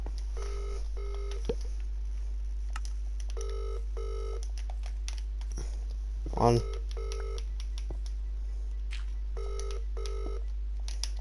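An electronic phone ring repeats in short patterned pulses, steady and moderately loud, over a constant low hum, with a brief voice cutting in midway.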